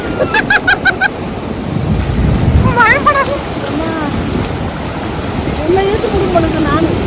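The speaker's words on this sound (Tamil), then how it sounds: "பெரிய அலை வந்துருச்சு" A big ocean wave breaks on a beach with a deep, swelling roar that surges and then washes out, under excited voices and shouting children close by.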